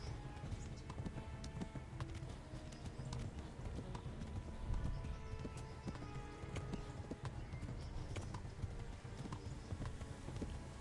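Horse hooves clip-clop steadily in the medieval video game Kingdom Come: Deliverance, a continuous galloping patter layered over dense game ambience and music, with no clear speech.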